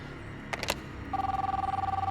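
Telephone ringing sound effect: a few sharp clicks followed by a steady electronic warbling ring that pulses rapidly, near and clear, with no talking.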